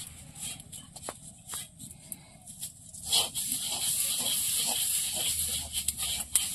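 Rice popping into khoi as it is dry-fried the traditional way at home in a village kitchen, a steady hiss with scattered sharp crackles and pops, thickening into dense continuous crackling partway through, close by.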